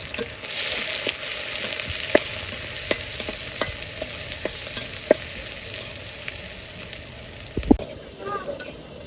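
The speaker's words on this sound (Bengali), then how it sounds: "কেটে রাখা পেঁয়াজগুলো দিয়ে দিব দিয়ে একসাথে বাজা বাজা করে নিবি" Chopped onions fry in oil with cardamom, cinnamon and cloves for a coconut chicken curry, a steady close sizzle broken by repeated sharp scrapes and taps of a stirring spoon, with no talk.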